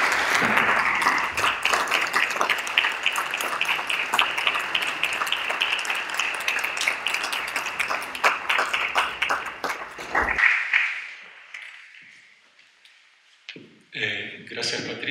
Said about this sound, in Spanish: El aplauso es para ellos.